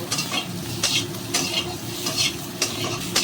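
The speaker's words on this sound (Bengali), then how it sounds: "এবার আমি পটল ভাজার তেলেই আলুগুলো একটু লাল লাল করে ভেজে নেব" Potatoes frying in the oil left over from frying pointed gourd, stirred in a pan with a steady sizzle and periodic scraping strokes, close and continuous with no talking.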